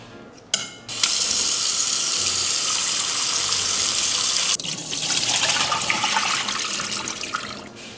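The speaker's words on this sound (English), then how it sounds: "remove it, and then run it underneath cold water." Cold tap water runs steadily over blanched pork belly in a kitchen sink, a loud continuous splashing stream that starts abruptly after a brief clatter and shifts tone midway as the flow hits the meat.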